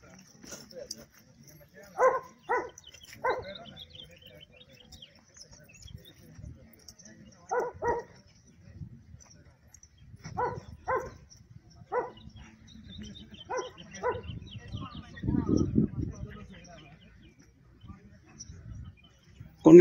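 Reactive, aggressive dog during a behavioural therapy walk outdoors in the countryside, giving repeated sharp barks in short clusters of two or three, spaced across the stretch with quiet gaps, mid-distance, while people talk faintly in the background.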